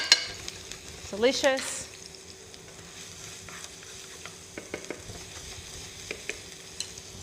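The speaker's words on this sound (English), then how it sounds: "we quickly move to adding some garlic" Garlic sizzles in a generous pool of olive oil in a pan, a soft steady fry with a brief louder burst of stirring early on, then scattered clinks and light scrapes; a short spoken word comes near the start.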